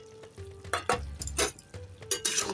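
Vegetables and paneer are stirred in a pan with red chilli, turmeric, Kashmiri chilli and cumin powders, giving repeated scraping and rustling strokes over a soft, low sizzle, close and fairly loud, with no talking.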